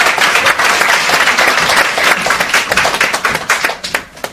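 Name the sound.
students applauding seniors at seminar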